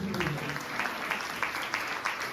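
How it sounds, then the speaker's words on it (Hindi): A church congregation at a Christmas service claps together, a fairly quiet, even wash of applause lasting a couple of seconds with a faint voice beneath it. "आइए पुरजोर तालियां बजाएं"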